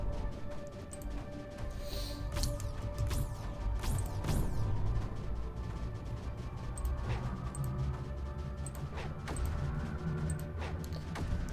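The delegate in Creeper World 4 gives off a steady low electronic drone, layered with repeated whooshing sweeps and sharp crashes from the game, at a moderate level with no talking.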